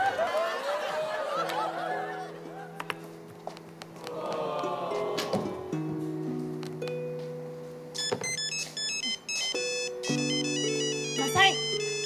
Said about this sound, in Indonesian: Mas Hai, handphonenya bunyi tuh.